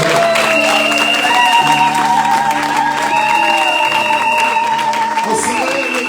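A church congregation claps and cheers for the Lord, sustained applause and voices under loud sustained music, with a few whoops rising out of the crowd.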